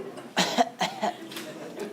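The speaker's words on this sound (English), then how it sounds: "A cough." A short burst of coughing on a live theater stage, two or three harsh hacks close to the listener, tapering into a softer trailing cough.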